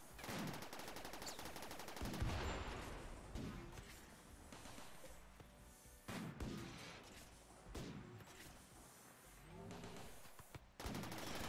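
Video game gunfire hammering a mini turret, dense rapid shots and bursts with heavy thumps and crashes, loud and continuous throughout.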